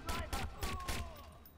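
Rapid string of sharp gunshots in Watch Dogs, about six or seven bursts in quick rhythm, fading toward the end, fairly quiet overall.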